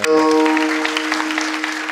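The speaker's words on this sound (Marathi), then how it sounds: "टाळी वाजवा." An audience at a kirtan breaks into brief, loud, dense clapping that carries steadily under a held musical drone.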